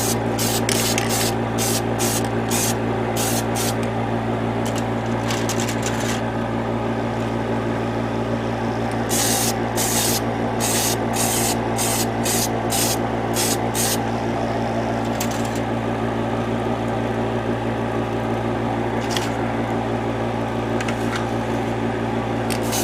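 Gray spray paint on 1/144 HG Gundam model kit parts comes in short, sharp hissing bursts in quick clusters, separated by pauses, over a steady background hum indoors.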